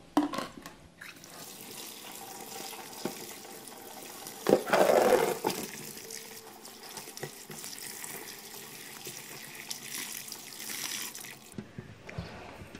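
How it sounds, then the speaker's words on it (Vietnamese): Salted pickled cucumbers rinsed under plenty of running tap water to wash off the brine, a steady close rushing flow with a louder splashing burst partway through, no talk. "mình sẽ đi xả với nhiều nước cho nó sạch cái nước muối trong cái dưa này luôn"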